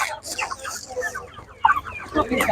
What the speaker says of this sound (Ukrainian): Великий бройлер більше кілограма.